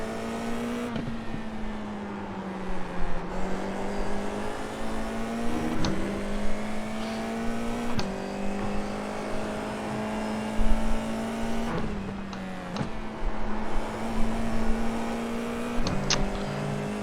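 A Formula 4 race car engine at Okayama in iRacing drones steadily at high revs, with pitch dipping and rising through brief gear changes and lifts, loud and continuous with no talk over it.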